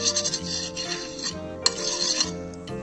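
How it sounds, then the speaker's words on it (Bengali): Ghee being spread with a metal utensil across a hot tawa for patishapta, a close, repeated scraping and rasping with light metallic clinks and one sharp tick. "তাওয়া গরম হয়ে গেছে, এবার আমি একটু ঘি বুলিয়ে নেব।"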